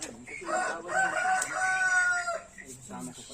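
Chickens and a rooster on a farm: a rooster crows loudly and at length, with hens clucking faintly around it.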